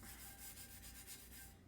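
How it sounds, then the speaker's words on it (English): A tumbler is sanded by hand before coating, quick rhythmic rasping strokes that are close but faint, with no talking. "My personal preference is to give it a sand."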